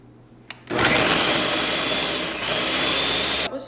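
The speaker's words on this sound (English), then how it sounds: "This is the blender that I got. It's from Ninja." Ninja blender whirring through chunks of sweet potato and milk, starting with a click and a sudden loud motor surge, then a steady roaring grind for about three seconds before cutting off.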